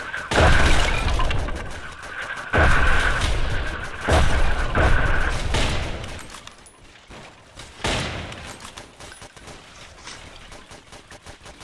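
Heavy booms and blasts from bombs in a Roblox World War II shooter, several loud broadband bursts in the first half fading to quieter rumbling and scattered hits later, with a faint tonal hum underneath.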